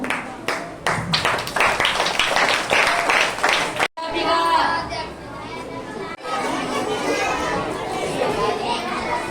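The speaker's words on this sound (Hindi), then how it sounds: "पहले आती छोटे छोटे बच्चे, सभी तालियां से स्वागत करूंगा।" Applause from a school audience welcoming small children onto the stage at a Hindi Diwas school programme, loud, dense clapping mixed with children's chatter, a brief break, then steady crowd noise and talking.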